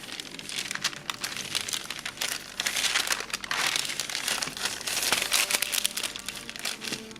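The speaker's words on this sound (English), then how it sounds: "we will cover it with another sheet of baking paper" A sheet of baking paper is laid over flattened clay for a Lord of Change model base, crinkling and rustling continuously at close range, with louder bursts of crackle as it is smoothed down.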